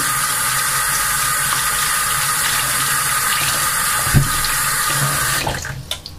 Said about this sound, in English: I pour some water on the meat with the vinegar in it